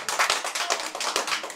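A church lecture audience claps briefly in welcome, a short burst of close hand claps at moderate volume.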